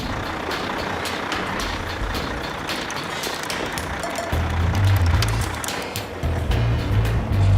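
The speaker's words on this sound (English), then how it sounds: "is driving the lead truck." A heavy haul truck drives onto lake ice, its engine rumbling steadily and growing louder and deeper partway through, with a strong low drone and some rattling clatter up close.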